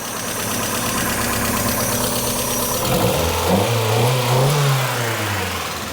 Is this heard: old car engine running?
yes